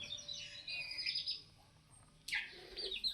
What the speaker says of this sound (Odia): ଦେଖନ୍ତୁ ଛୁଆ